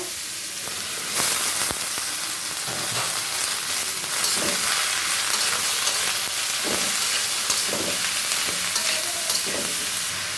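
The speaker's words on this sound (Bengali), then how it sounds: "জিরা আর শুকনো মরিচ ফোড়ন দিলাম" Cumin seeds and dry chillies tempering in hot oil give a loud, continuous hiss and sizzle, close up, with a few soft pops and spoon stirs and no talking.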